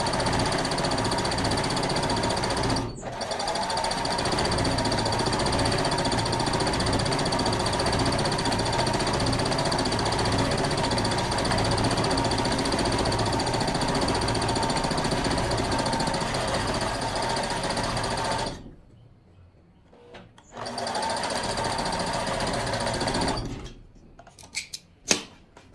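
A sewing machine stitches fabric for a garment set, running loud and steady for long stretches with a short pause early on, then stopping, followed by a brief second burst of stitching and a few light handling clicks.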